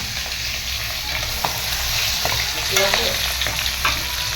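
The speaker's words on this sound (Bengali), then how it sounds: "মাছ কটা ভেজে নিচ্ছি" Fish frying in a pan, giving a steady, close sizzle with crackling spits and a few soft clinks of a utensil against the pan.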